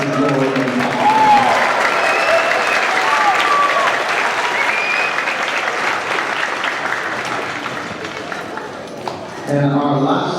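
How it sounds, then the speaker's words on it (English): Sustained audience applause for an 8th grade percussionist at a school district band festival, a steady dense wash of clapping that thins out near the end, followed by a voice resuming over the quieter room. "We also have another round of applause for our 8th grade percussionist, Travis"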